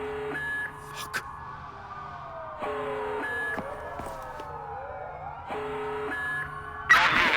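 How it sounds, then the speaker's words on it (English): Alarms and police sirens in the video game Watch Dogs 2, with a repeating electronic alarm tone and sweeping siren wails cycling in a steady pattern, moderately loud, ending in a burst of noise. "Once again, Perfect Dark alarms blare as we leave the building"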